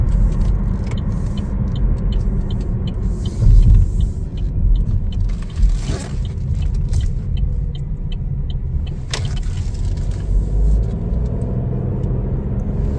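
A 2024 Chevrolet Trailblazer AWD LT driving on a road, a steady loud cabin rumble of tires and engine with occasional faint clicks, and no talking.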